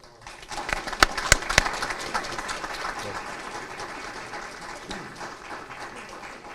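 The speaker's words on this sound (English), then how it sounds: "give her a round of applause." Audience applause at a military brigade change-of-command ceremony at Camp Zama, Japan: a few sharp claps up front, then a steady wash of clapping from a seated crowd, with voices mixed in.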